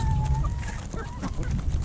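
Leghorn chickens cluck and murmur close by in a busy, noisy outdoor setting, with short tonal calls scattered over a low rumble.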